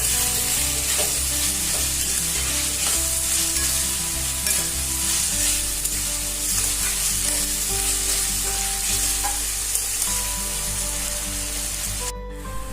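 Masala of whole spices and coconut roasts in a pan over low gas for Malvani sukka chicken, a continuous close sizzle with repeated spatula scrapes and a low steady hum underneath, no talking.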